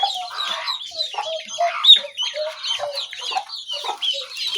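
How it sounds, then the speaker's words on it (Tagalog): Hens clucking in a rural farmyard with a newly hatched chick peeping among them, a busy mix of close, overlapping clucks and high chirps in a steady, chattering flow. "Kumalit yung bagong pisa."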